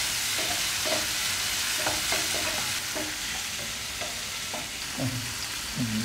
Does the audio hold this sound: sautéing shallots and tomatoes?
yes